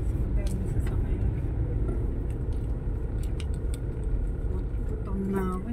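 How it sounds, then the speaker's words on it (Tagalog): Road traffic with many vehicles near a public market in Cuenca, Batangas: a steady low rumble of engines and passing cars, with faint clicks and a brief tonal beep near the end, under quiet background voices. "Dami sasakyan."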